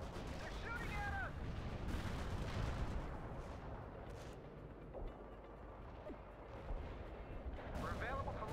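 Gunfire and artillery blasts in the video game World in Conflict rumble and crack under intermittent radio-style voices, with dense, moderately loud bursts and booms throughout.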